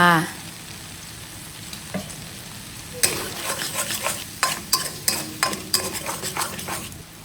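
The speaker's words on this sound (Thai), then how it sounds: "ผัดผัดทุกอย่างให้เข้ากัน" Canned fish stir-fried with curry paste, sugar, fish sauce and garcinia in a hot pan, sizzling steadily while a spatula scrapes and clatters in quick repeated strokes after a quieter start.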